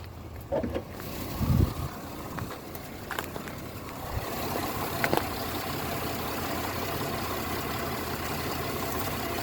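Car engine idling at full operating temperature during a transmission fluid and filter change, a steady low hum under a few clanks and handling noises early on, then an even, continuous idle.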